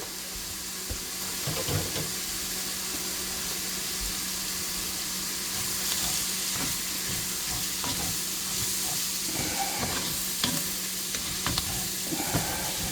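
Sausage frying in olive oil sizzles continuously in a pan, with frequent stirring scrapes and clinks over a steady hiss, all nearby and moderately loud.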